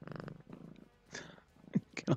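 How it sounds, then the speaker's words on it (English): A small cat purring close to the microphone, a rapid rhythmic rumble with breathy pulses, rising to louder bursts toward the end. "She's purring like crazy."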